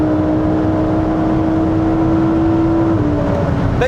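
A Lamborghini Huracán EVO fitted with a costly aftermarket exhaust gives a loud, continuous rev, a steady droning roar that holds level and then drops in pitch near the end, with no talk over it.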